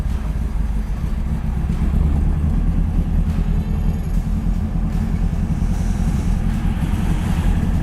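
A 1969 Camaro Z/28 V8 idling while it warms up, a steady, dense, low rumble with an even lope, loud and close, no voices.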